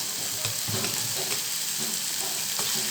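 Chicken keema with onion and curry leaves sizzles in a pan while being stirred, a dense continuous frying hiss with soft spoon scrapes, close and steady.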